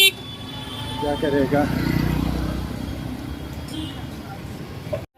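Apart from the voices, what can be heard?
busy traffic of many vehicles near a football ground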